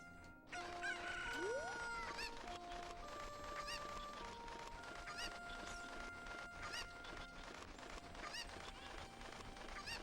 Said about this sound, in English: here's one of the chickens that we need